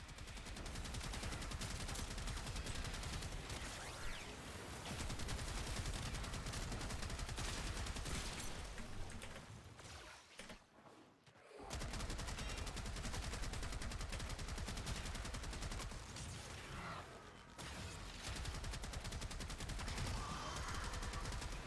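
Sustained rapid video game gunfire from a weapon's alternate fire mode, dense and loud bursts running almost continuously, with a brief pause in the middle before the shooting resumes.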